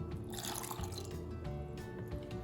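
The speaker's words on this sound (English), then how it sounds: "take your orange juice, which you've measured to half a cup, and pour it in" Orange juice poured into a blender for a persimmon smoothie, a steady trickling, splashing flow of liquid running close by for a couple of seconds with no talk over it.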